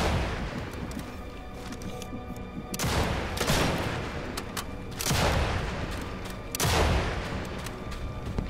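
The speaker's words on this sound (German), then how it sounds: "Sniper rifle." Sniper rifle shots in the video game Sniper Elite 5, four heavy booming reports spaced a couple of seconds apart, each trailing into a long rumbling echo over a steady background din.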